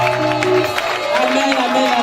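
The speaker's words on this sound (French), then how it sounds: "Donne une acclamation au Père." A church congregation at a French-language worship service raises a loud, continuous cheer mixed with clapping, with voices blending into the crowd noise throughout.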